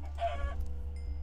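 A single Minecraft chicken clucks once, a short close cluck over a steady low game hum.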